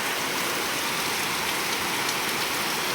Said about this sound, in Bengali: টিপ টিপ টিপ টিপ করে সারাদিন বৃষ্টি করে যাচ্ছে